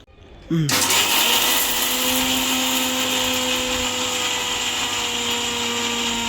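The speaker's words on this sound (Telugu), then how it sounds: "ఇప్పుడు మనం ఇది మిక్సీ చేస్తాం" An electric mixer grinder whirs loudly as it grinds peanuts and almonds, starting abruptly after a short quiet moment and holding a steady, close motor whine to the end.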